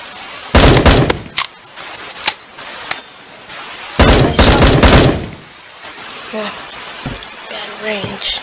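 Gunfire in the Bullet Force video game: two loud bursts of rapid automatic shots and a few single sharp cracks, close and punchy, with a player's voice talking in between.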